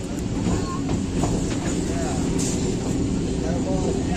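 A local train pulls out of Lakshmikantapur railway station with a steady, loud rumble and faint clickety-clack of wheels, and muffled voices sit under the noise.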